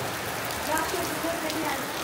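Rain falls steadily during a stormy spell at a rural home, a continuous soft patter and hiss with no break over the short stretch, and faint voices murmur beneath it.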